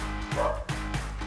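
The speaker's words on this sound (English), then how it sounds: "That is the dog outside barking," A dog barks outside during an indoor lens unboxing, with a few muffled, distant yips and barks in quick succession over steady low room hum.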